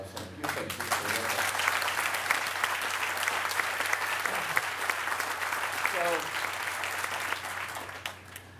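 At the Silver Line metro grand opening ceremony, the audience breaks into sustained applause for a retiring honoree, a steady, moderately distant patter of clapping that tapers near the end.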